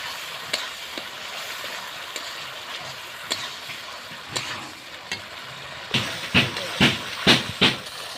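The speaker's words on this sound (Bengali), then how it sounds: "আর কিছু সময় মশলাটা কষিয়ে নেবো" Spice paste sautés in a pan with a low continuous sizzle, punctuated by periodic spatula scrapes and taps that grow louder and more rhythmic toward the end.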